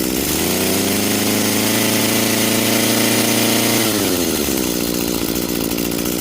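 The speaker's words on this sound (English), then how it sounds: "it is rotating right now, even at idle" The small two-stroke engine of an Echo SHC-225S hedge trimmer idles close and loud with a steady buzzing drone that rises in pitch, then drops back to a rougher idle near the end.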